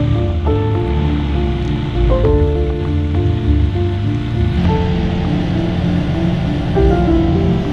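Heavy rain pouring during a storm in Ilocos, a dense, loud, continuous hiss over a deep rumble, with a faint steady hum running beneath it.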